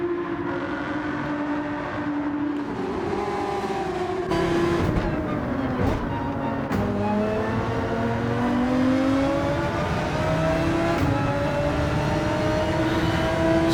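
In Gran Turismo 7 at Trial Mountain, a race car engine drones and climbs in pitch down the back straight, with a couple of brief dips at gear changes before it keeps winding up, steady and fairly prominent.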